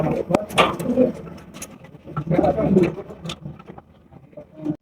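A pair of Danish pigeons coo at a pigeon market in low throaty bursts, nearby and uneven, with a faint engine rumble and other background noise.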